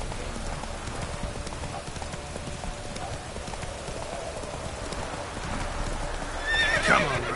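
Roach, Geralt's horse in The Witcher 3, runs over a steady rumbling bed, and a sharp, wavering neigh breaks out near the end. Nobody speaks.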